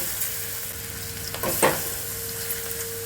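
Onion frying in oil with cumin, asafoetida and turmeric gives a low, steady sizzle. A short burst of stirring comes partway through, and there is no speech.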